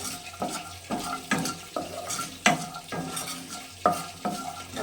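Garlic, green chillies and dried chillies fry together in a dry pan with black cumin for a flat bean bharta, a spoon stirring in repeated scraping strokes about every half second over a soft sizzle, close and alone.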